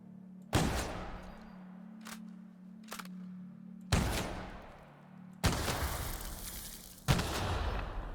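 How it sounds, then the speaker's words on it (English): Shotgun blasts in The Outer Worlds, four loud booming shots spaced a second or two apart, each with a long decaying tail, plus a couple of sharp lighter clicks between them over a low steady hum. "Nothing a good shotgun can't fix, though."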